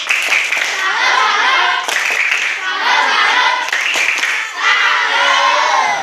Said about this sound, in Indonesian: Ayo, tepuk salut.